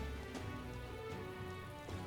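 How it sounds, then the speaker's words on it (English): Rain in the video game Metaphor, a soft, continuous patter of drops on surfaces, faint and steady throughout with no voices. "it's raining"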